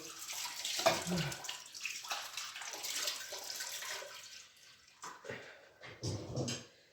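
Water runs from a kitchen tap during kitchen cleaning, a steady rushing stream that breaks off and restarts in short bursts near the end.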